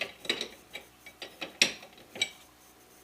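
A wrench works a 22mm nut on a Corvette C6 front wheel bearing, giving a series of sharp, close ratcheting clicks and metallic ticks spaced irregularly, with no voices.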